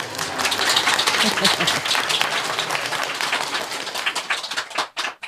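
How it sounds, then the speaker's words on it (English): Audience applause at a spiritual gathering, a thick, sustained round of many people clapping, close and loud, thinning out and breaking up in the final second. "You can clap again if you like, if you're happy."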